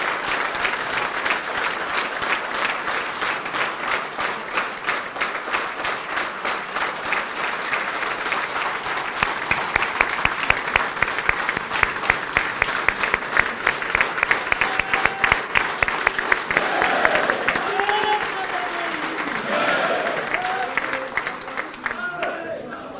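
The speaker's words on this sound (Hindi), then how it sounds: "एक ऐसी ताली बजनी चाहिए हमारे राष्ट्रीय" A large crowd at a national party council meeting claps steadily and loudly for a long stretch, dense rhythmic applause building in the middle and tapering slightly near the end, with a voice faintly audible beneath.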